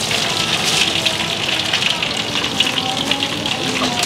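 Pork skin frying in rendered pork fat in a pan, a steady close sizzle and crackle with bubbling, loud and continuous throughout with no talking.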